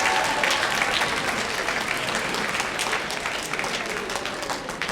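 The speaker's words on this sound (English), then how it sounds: "Let's give them a round of applause, faculty and staff." An audience at a high school gives a dense, sustained round of applause for faculty and staff, steady and full throughout, fairly close, with no voices above the clapping.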